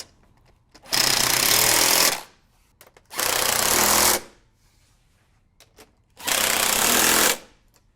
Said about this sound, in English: I'm going to be using a 7/16 socket and an impact driver.